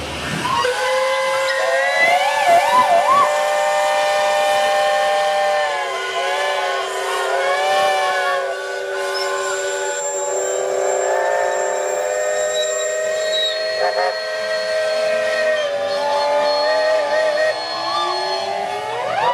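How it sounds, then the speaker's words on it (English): Many steam engine whistles blare together at a steam rally in Shrewsbury for about twenty seconds, loud sustained overlapping tones with some pitches sliding and shifting, one rising at the end. "enginemen and ladies, if you would kindly sound your whistles on the count of 3"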